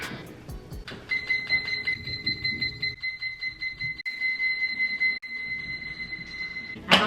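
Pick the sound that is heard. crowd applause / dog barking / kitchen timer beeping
kitchen timer beeping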